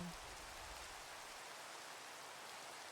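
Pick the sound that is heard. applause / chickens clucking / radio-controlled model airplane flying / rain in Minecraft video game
rain in Minecraft video game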